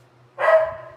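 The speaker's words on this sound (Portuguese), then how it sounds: "Porque eu trabalhei o Tó, agora disparou a latir." A single sharp dog bark, fairly close and loud, following a quiet pause with faint low background hum.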